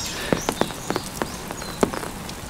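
Rain falls on a Jeju oreum, a steady hiss with scattered sharp drops and taps landing close by at an uneven rhythm, with no talk.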